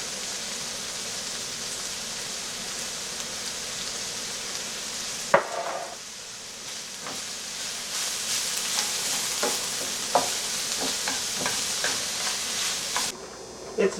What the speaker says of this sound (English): Want to mix it thoroughly.